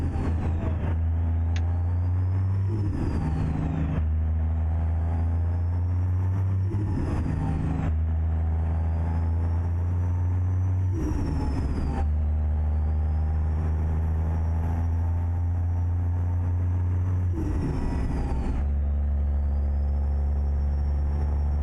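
A Ford F-450 pickup engine in American Truck Simulator hauls a load of hay. It is a steady, loud low drone that drops and rises in pitch every few seconds as it shifts through the gears.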